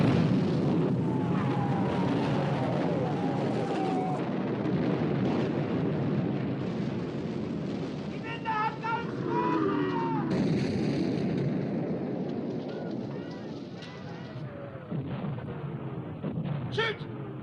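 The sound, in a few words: naval artillery fire in war film Sink the Bismarck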